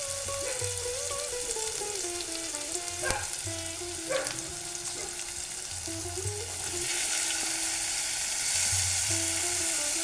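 Chopped onion and tomato fry with turmeric in a pan for rajma, giving a steady, close sizzle with occasional stirring scrapes and no talking.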